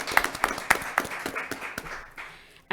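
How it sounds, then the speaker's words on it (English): A small audience at a Nashua candidate forum gives candidates a little applause, a sparse scattering of distinct nearby claps that thins out and fades away after a couple of seconds. "And maybe a little applause?"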